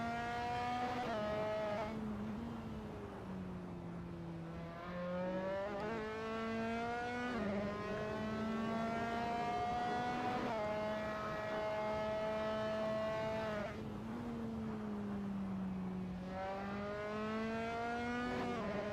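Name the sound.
race car accelerating at Lusail hairpin in a racing video game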